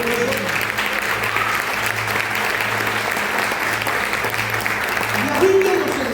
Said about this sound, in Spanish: ¿Puede dar un aplauso a nuestro Dios?